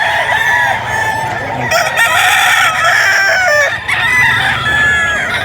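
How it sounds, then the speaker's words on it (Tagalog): Many chickens cluck and roosters crow continuously at close range at a crowded poultry market, making a loud, busy chorus of overlapping calls. "Tumpok-tumpok yung mga nagtitinda ng manok dito."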